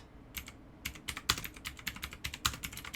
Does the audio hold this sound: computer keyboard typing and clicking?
yes